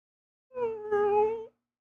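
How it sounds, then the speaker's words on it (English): A single cat meow, clear and fairly close, drawn out for about a second with a slight rise in the middle, set in a tabletop role-playing session. "you turn around and you spot a cat."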